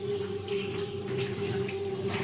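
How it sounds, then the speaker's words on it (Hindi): Water pours steadily from a shower as a horror-story effect, a continuous, even hiss with a faint sustained hum beneath it and no voices. "अचानक उसे बाथरूम से पानी गिरने की आवाज सुनाई देती है।"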